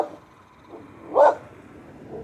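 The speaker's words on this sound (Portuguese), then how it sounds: "Assim como esse cachorro que tá latindo agora." A dog lets out a single sharp bark in the middle, fairly close, with quieter faint yips before and after against a calm background.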